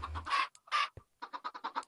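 Chickens cluck in Minecraft's Nether: two longer squawks come first, then a quick run of short, rhythmic clucks, all faint and fairly close.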